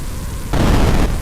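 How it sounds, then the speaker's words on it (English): A short, muffled boom of a small explosion in a video game engine bursts suddenly out of a low rumble, then cuts off about half a second later. "A small explosion. That's what we want."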